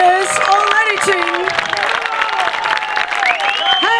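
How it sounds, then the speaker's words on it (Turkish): Applause and cheering for paralympic racers at a cycling gran fondo award ceremony, a lively crowd clapping steadily with voices and whistles mixed in throughout. "lütfen en güçlü alkışlarınız onlar için"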